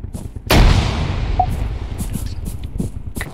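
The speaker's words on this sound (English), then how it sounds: "Grenade in." A grenade detonates in the military shooter Arma 3, a sudden heavy boom followed by a long rumbling decay, with faint distant gunshots and brief clicks afterward.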